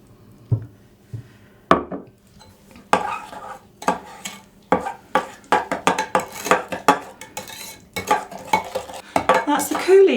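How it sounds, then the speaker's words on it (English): A spoon stirs and scrapes around a pan in irregular clinks and swishes, sugar dissolving into a fruit coulis, with no talking. "I'm just going to pour that in there and stir it round to dissolve into the sauce"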